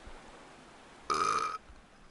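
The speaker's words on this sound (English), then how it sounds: "No, it's a painful burp." A single drawn-out, painful burp after eating rye bread, loud and close, lasting about half a second against a quiet background.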